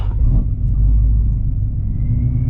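Procharged 700 hp Shelby GT350 on bald tires launching hard with wheelspin, a loud, steady low engine rumble and roar held close for the whole moment with no talk.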